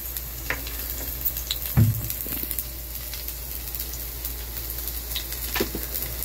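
Garlic fries in a pan, a soft steady sizzle beneath faint clinks and one brief thump of the pan or spoon.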